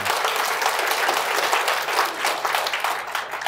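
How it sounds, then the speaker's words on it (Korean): A church congregation gives steady applause during a worship service, a dense, even wash of many hands clapping together at moderate loudness for the whole stretch. "여러분 오늘도 찬양 가운데 함께 하시는 우리 하나님께 영광의 박수 올려드리도록 하겠습니다."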